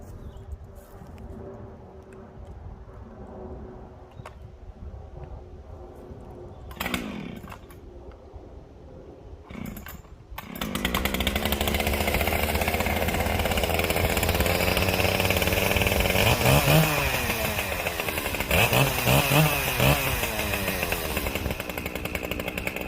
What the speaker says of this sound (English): I'm going to be cutting in firewood lengths until I get past that hollow rotted out section.